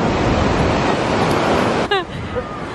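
Broad, steady wash of water and waves at a busy waterfront in New Orleans, loud and continuous with faint crowd noise, cut off near the end by a brief voice.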